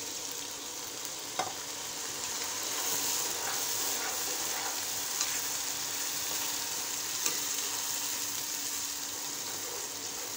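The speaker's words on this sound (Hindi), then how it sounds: "दही और लहसुन अदरक जब अच्छी तरह से भून जाएगा" Yogurt with garlic and ginger frying in a pan for chicken haleem, a steady soft sizzle and hiss running throughout with a few faint clicks of a utensil, no talking.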